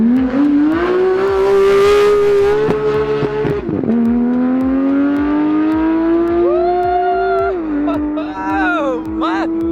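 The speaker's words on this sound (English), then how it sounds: "We're gonna do some drifting." A car drifts in a road median, its engine loud and close, revving high and dropping and climbing again, with tire squeal and voices talking over it.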